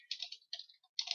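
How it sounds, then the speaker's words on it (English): Brief bursts of typing on a computer keyboard, three quick clusters of light clicks, close and quiet with no talk. "Excuse my typing."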